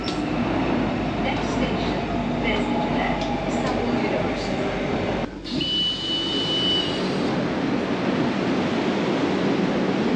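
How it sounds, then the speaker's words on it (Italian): An Istanbul metro train at its terminus gives off a loud, steady rumble of wheels and carriage noise, with a brief dip in the middle followed by a thin high squeal. "Metropolitana tutta vuota perché siamo al capolinea"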